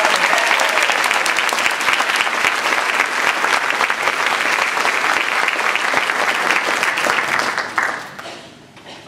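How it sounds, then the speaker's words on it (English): A large audience at a Toastmasters district speech contest applauds loudly and densely, a thick continuous roar of clapping that holds steady for about eight seconds before tapering off quickly at the end. "Let's give her a round of applause for being with us."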